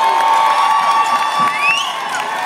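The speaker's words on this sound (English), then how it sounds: "Make some noise for the horn section." Audience at a live holiday Christmas show by a band with a horn section, cheering and whooping together as a dense, steady crowd roar that holds for a couple of seconds without a break.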